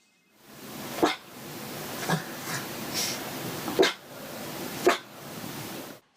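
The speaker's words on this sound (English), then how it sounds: "The first level being a shyish, quiet bark, kind of sounding like she needs an inhaler." A dog gives a shy, quiet, wheezy bark, several soft breathy woofs spaced about a second apart, near and alone.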